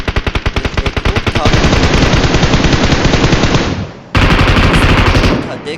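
Rapid machine gun bursts from PUBG Mobile, loud and close, first as distinct rhythmic shots then merging into dense continuous fire, briefly cutting out before another burst.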